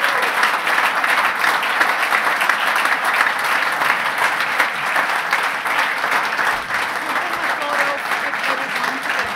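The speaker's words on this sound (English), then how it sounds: "So, give a clap to basically all our award winners." An audience applauds award winners at a 2017 awards event with long, steady, dense clapping throughout, while a few voices murmur faintly underneath.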